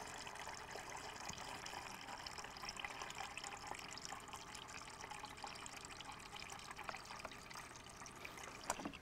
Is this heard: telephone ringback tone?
no